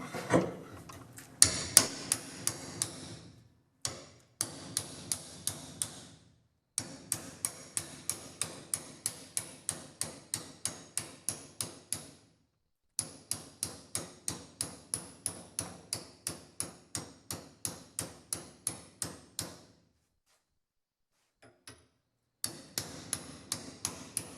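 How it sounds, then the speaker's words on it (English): Steady hammer blows ring out in fast, regular bursts, each sharp strike close and loud, with brief pauses between runs of hitting. "hammer time."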